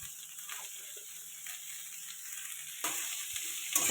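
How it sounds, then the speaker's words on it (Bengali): Black cumin fries in oil along with onion, chilli and potato for chira pulao, making a soft steady sizzle with occasional light stirring clicks; it grows louder near the end. "এটা ভালো করে ভেজে নেব।"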